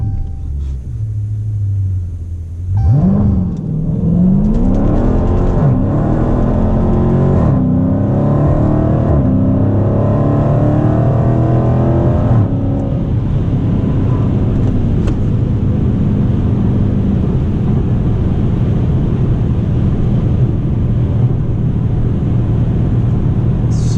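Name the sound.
Dodge Challenger engine revving at full throttle, launch control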